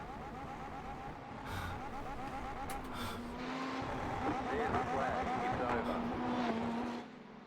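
Race cars in an endurance event rev and roar past. The engines rise and fall in loud, sweeping pitches and rumble continuously, with a voice talking over them.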